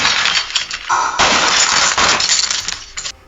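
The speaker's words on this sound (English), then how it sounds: "Glass shattering." AI-generated glass shattering sound effect: a loud crash of breaking glass followed by bright tinkling and clinking shards, several bursts in quick succession over a few seconds, no voices.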